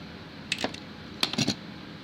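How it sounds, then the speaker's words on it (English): Two short bursts of crisp snapping and clicking as a piece is cut free from a wooden 3D puzzle sheet for a V8 engine model, close and isolated against a quiet background. "Let's cut this piece off."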